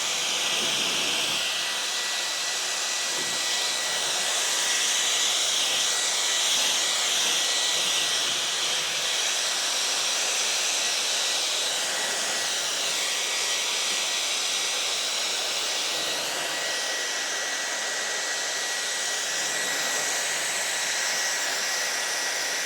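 A FANTTIK BF10 PRO handheld blower fitted with a flat nozzle roars with a loud, steady high-pitched whoosh that runs unbroken for over twenty seconds, close to the listener.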